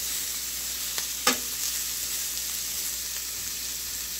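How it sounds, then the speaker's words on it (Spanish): Onion, garlic and ginger fry in a pan for chicken curry, giving a steady close sizzle with a couple of sharp stirring scrapes near the start and no talking. "para freír la cebolla, el ajo y el jengibre"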